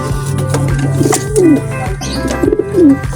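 Racing derby pigeons coo nearby, a few rolling, throaty calls that rise and dip, heard over a steady low hum and some scattered light knocks.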